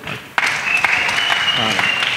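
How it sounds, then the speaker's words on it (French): Applause breaks out at a church gathering led by a pastor with child disciples, a close, steady patter of clapping hands that starts abruptly and continues evenly, with some voices mixed in. "Acclamez plus."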